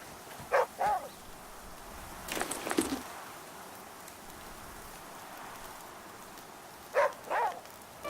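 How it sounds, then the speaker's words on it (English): Dog barking in the video game The Flame in the Flood, a few short yips in pairs early and again near the end, over steady rain-like ambience with a louder burst of noise between them. "What's the dog barking about?"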